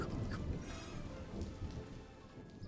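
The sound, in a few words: rain in the video game Swords 'n' Magic and Stuff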